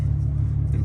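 A 2018 Ferrari 812 Superfast engine drones steadily on a farm road, a loud, continuous low rumble with no clear rise in pitch through the short moment.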